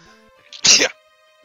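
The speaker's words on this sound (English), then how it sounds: "I'm gonna sneeze." A single sharp sneeze bursts out close to the microphone, brief and loud, preceded by a faint intake of breath and followed by quiet.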